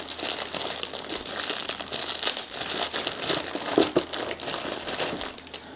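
Plastic packaging holding small brake caliper parts is opened, giving continuous close crinkling and crumpling with sharp tearing crackles throughout and no speech.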